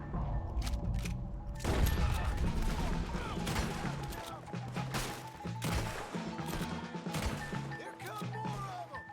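Gunfire in the Western action game Red Dead Redemption 2 rattles in a dense, continuous fusillade of loud, overlapping shots and impacts, with occasional speech mixed into the battle noise.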